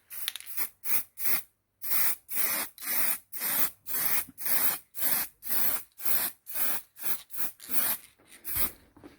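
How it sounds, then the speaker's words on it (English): Rattle-can spray paint applied to a hanging car part from a Lancia Prisma HF integrale build, a run of about fifteen short, loud hissing bursts close up, separated by brief gaps, with no talk. "Just with the rattle can."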